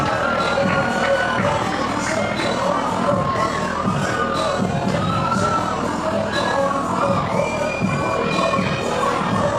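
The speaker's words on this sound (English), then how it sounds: "What an ovation for Flex as we kick off the Grand Prix Tag Team Tournament" A pro wrestling crowd roars and cheers in a loud, sustained ovation for a wrestler at the start of a tag team tournament, shouts and whoops layered densely throughout.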